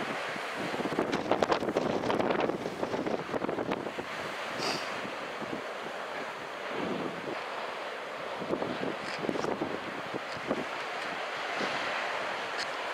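Small, weak ocean waves roll onto Sendai Newport beach on a nearly flat day, a steady wash of surf mixed with gusty wind buffeting the microphone throughout, with no one speaking.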